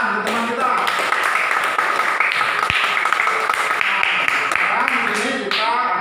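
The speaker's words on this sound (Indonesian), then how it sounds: "Tepuk tangan ke teman kita." Classroom students applaud a classmate with dense, continuous clapping, while a voice talks faintly underneath.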